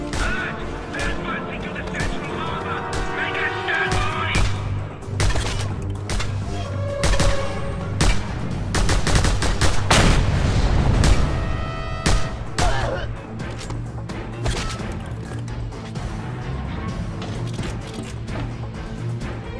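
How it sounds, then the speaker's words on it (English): Rapid gunfire from a mounted gun in the video game Just Cause 2 during a stronghold assault, dense bursts and booms running throughout under a busy, loud mix with battle noise. "Look out! Mounted gun!"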